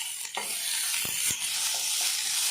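Onions and garlic fry in a pan for an old Tulunadu chicken recipe, giving a steady, close, bright sizzle with a few soft stirring scrapes, and no talking.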